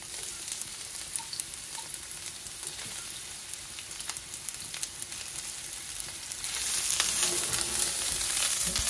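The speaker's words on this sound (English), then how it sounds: "First, I will fry up my onions." Onions frying in a pan for a Guyanese pumpkin curry, a steady close sizzle with light crackle throughout that swells louder and brighter near the end, with no talking.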